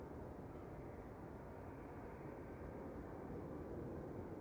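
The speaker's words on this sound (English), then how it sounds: "Another Delta behind it, Delta A330neo." A Delta Airbus A330neo jet departs Amsterdam Schiphol Airport, heard as a steady, distant, low engine rumble that stays constant throughout, with no voices.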